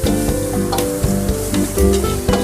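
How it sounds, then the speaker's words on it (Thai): Minced pork being stir-fried with holy basil leaves in a pan, a steady close sizzle with scraping spatula strokes and clatter throughout. "ใส่ใบกะเพราไปเลย แล้วก็ผัด เข้ากันนะครับ"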